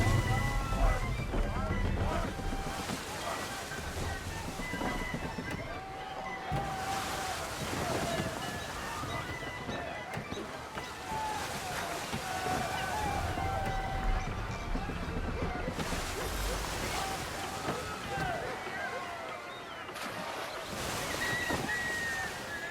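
Wind and surging ocean waves at sea in Assassin's Creed III, a continuous roaring wash rising and falling in slow swells, with voices shouting under it.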